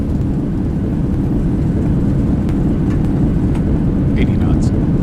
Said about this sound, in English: Alright, reversers are out.